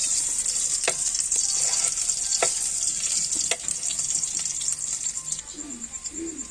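Garlic sautés in hot oil in a pan with a loud, bright, continuous sizzle, a few sharp utensil clicks, and faint background sounds near the end.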